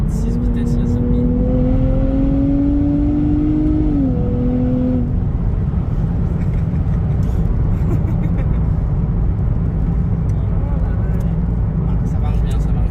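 A Nissan 400Z engine climbs in pitch through a couple of rising gear pulls in the first seconds, then drops to a rough droning cruise with road and wind noise, someone talking throughout.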